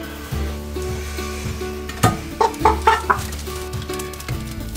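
A young rooster gives a quick burst of several short clucks nearby over a steady low background hum.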